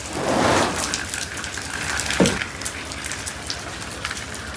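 Steady hiss of water spraying down like rain, with a brief splash partway through and no talking.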